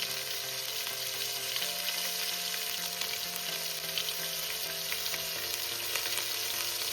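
A ground spice paste with turmeric and salt fries in a pan for Bengali egg curry, giving a loud, continuous, dense sizzle throughout with a faint low hum underneath.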